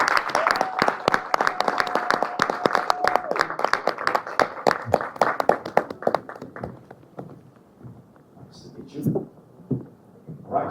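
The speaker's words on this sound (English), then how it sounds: "Ladies and gentlemen, help me welcome with a resounding applause, Tanisha Bowers." An audience at a radio-hosted Black History Month panel claps to welcome a speaker, a lively burst of close applause that thins out and fades after several seconds, with some voices around it.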